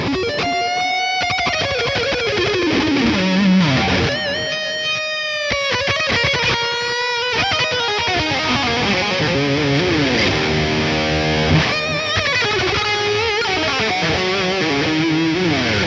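Heavily distorted electric guitar riffs through an amp simulator with ping-pong delay bouncing repeats, sustained chords and bends at a steady loud level throughout.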